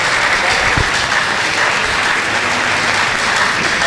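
Steady, dense applause from a sizable crowd at an academic valedictory lecture fills the space, loud and continuous without pause.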